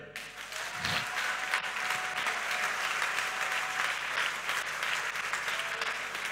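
A church congregation applauding in praise of the Lord: sustained, dense clapping from a large crowd that fills the room steadily from start to finish.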